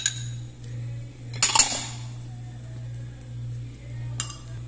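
A bowl is swapped out while preparing okra vinaigrette, with a clink of dishware against a counter midway and a lighter tap near the end, over a steady low hum.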